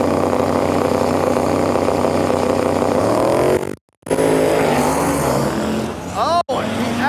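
A turbo LS-powered Gremlin and a Mustang launch side by side at a drag race, engines roaring loud and sustained with revving pitch sweeps, a brief dropout, and a crowd or announcer speaking under the noise.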